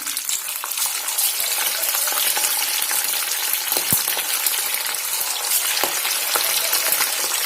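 Fish pieces rubbed with turmeric, salt and ginger-garlic paste fry in hot oil in a kadai, giving a loud, steady sizzle with scattered crackles and pops throughout, close up, with no voices.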